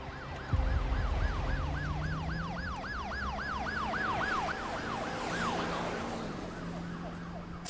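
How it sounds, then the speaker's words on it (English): Emergency vehicle sirens from a TV episode wail in steady rapid rising-and-falling sweeps that fade toward the end, set over a low rumbling background. "I hear sirens."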